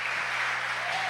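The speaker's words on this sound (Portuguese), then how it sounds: "Você pode aplaudir o Senhor?" A church congregation applauds in a steady, dense wash of many hands, continuous and full throughout the brief moment with no gaps.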